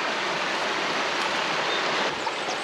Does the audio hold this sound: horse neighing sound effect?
no